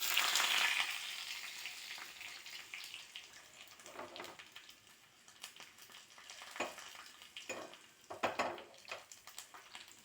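Garlic and dried red chillies fry in oil after mustard seeds, sizzling and crackling with bursts of spattering and occasional stirring scrapes, close and fairly quiet.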